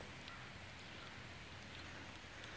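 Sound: rain

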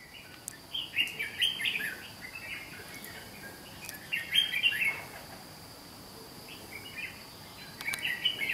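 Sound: red-whiskered bulbul birdsong

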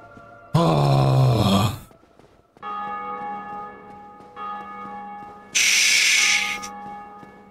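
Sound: church bell tolling in Dark Souls Remastered video game

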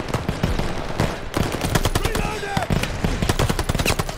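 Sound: suppressing machine gun fire in the video game Call of Duty: Vanguard

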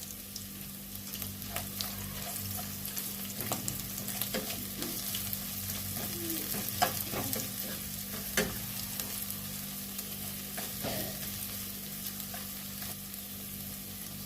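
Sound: ginger paste frying and being stirred in a pan

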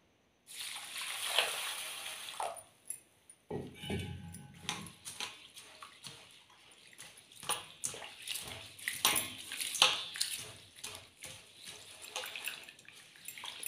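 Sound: washing soaked fenugreek and biri in water

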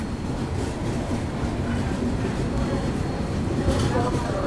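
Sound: Rajasthan Humsafar Express train departing

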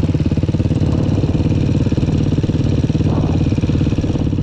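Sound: Suzuki LTR quad engine and exhaust

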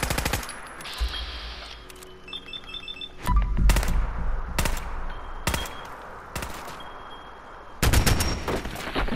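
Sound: custom assault gun firing in the video game Fallout 4

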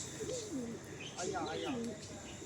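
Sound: Madrasi pigeons cooing

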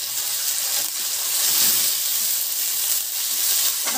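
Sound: pea pods cooking in a pan

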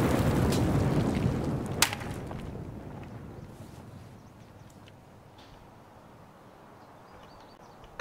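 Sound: grenade explosion in a video game

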